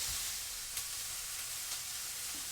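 Onions frying in a pan for nasi goreng give a steady, soft sizzling hiss that stays even throughout, with no talking over it.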